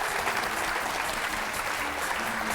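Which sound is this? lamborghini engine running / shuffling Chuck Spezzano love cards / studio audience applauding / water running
studio audience applauding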